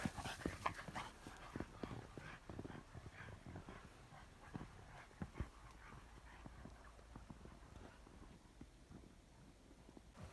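Dogs pant and scuffle nearby after running in a snowy forest, a steady, busy stream of quick breaths and rustling, with no talking.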